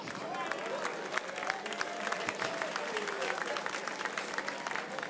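A comedy show audience claps at a Nigerian stand-up performance, the soft, scattered applause mixed with some crowd noise and voices.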